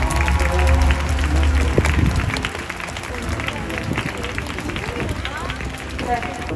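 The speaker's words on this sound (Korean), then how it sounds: "큰 박수 부탁드립니다" Audience applause at the Busan International Film Festival 2021 as director Jo Sung-hee and actors Song Joong-ki and Jin Seon-kyu are welcomed, dense and loud at first, then easing while a crowd keeps clapping under talk.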